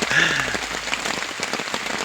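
Rain falls in a steady, soft patter, an even wash of drops with no voices over it.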